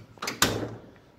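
A drawer on a 72-inch Harbor Freight tool box in a garage shop slides and shuts with a couple of quick metallic clacks, the second one sharper, then a fading rattle, heard alone at close range.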